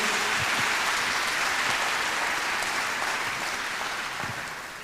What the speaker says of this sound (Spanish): ¿Por qué no le damos un aplauso al Señor por lo que estamos haciendo en el proyecto Abraham?